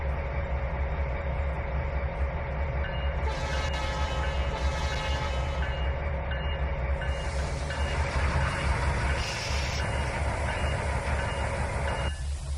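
A steady, loud train rumble in the Trainz 2019 video game, with a continuous hiss and droning tones, unbroken throughout, with no voices.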